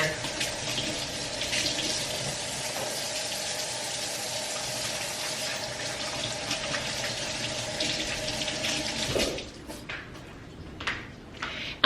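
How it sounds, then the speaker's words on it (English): Tap water runs steadily into a kitchen sink as hands are rinsed beneath it, a constant close rush that stops near the end and leaves a few faint drips and clatters. "let me rinse my hands"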